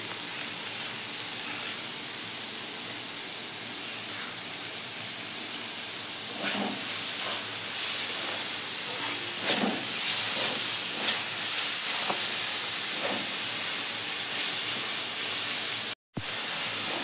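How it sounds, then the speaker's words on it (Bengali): Onion, cabbage, tomato and green chilli frying with salt for street-style chicken chowmein, giving a steady loud sizzling hiss with a few soft clatters of stirring near the pan. "পেঁয়াজ, পাতাকপি, টমেটো, কাঁচা লঙ্কা কিছুক্ষণ ভাজিয়ে নিচ্ছি লবণ দিয়ে"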